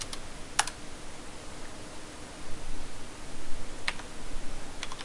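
Sparse computer keyboard typing while entering an IP address in a VMware lab: a few isolated sharp key clicks near the start and end over a hissy, noisy background, with no speech.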